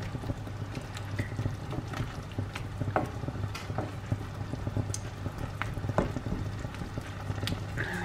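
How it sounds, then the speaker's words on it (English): Mushrooms for chicken pies cooking in a pan, a faint soft sizzle with scattered pops and crackles over a low steady hum, no talking. "I'm just going to leave that so the mushrooms start to cook"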